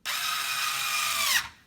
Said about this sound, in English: I just kind of go until the drill kind of sounds like it's snug